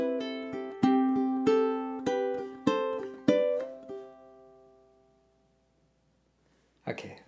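Ukulele plucking a simple melody of open and fretted notes, a run of bright, clear plucks in an even rhythm that rings out and fades, then a short burst of speech at the end.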